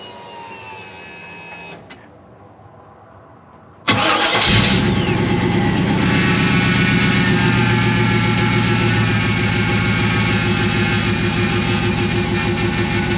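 A 1996-1998 Chevrolet C1500 pickup, fresh from a fuel filter replacement, hums quietly as the key cycles, then cranks and starts, settling into a loud, steady idle close by.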